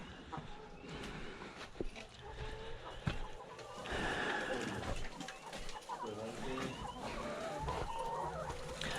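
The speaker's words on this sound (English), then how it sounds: "catch the chickens." Chickens cluck and call repeatedly at close range in an outdoor grazing area, irregular bursts over a rustling background, with people talking at times.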